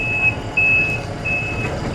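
A large truck manoeuvres on a Swiss farm, its reversing alarm beeping in repeated, evenly spaced tones over a low engine rumble, fairly close and with no talk.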